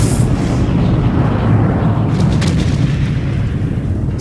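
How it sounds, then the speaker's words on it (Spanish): A deep, heavy rumble from the explosion of the USS Maine warship, a loud sustained roar of low booming that fills the whole span with faint crackling bursts on top and no speech. "Sin advertencia, una terrible explosión partió la nave a la mitad."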